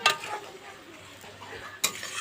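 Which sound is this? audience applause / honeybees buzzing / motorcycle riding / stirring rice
stirring rice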